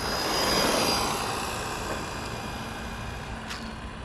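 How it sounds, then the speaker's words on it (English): An Arrma Granite Mega RC car on a nickel metal hydride battery runs at full throttle, giving a steady whining motor drone that is loudest at the start and then holds slightly lower, with no talk. "All right, nickel metal hydride right here. Full throttle."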